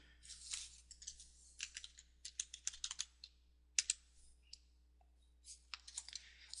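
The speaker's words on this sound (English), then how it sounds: "enter your password in the approved by field and hit enter" Keystrokes on a computer keyboard as a password is entered: a quiet run of irregular light clicks and taps in short bursts with brief pauses, close up and with no voices.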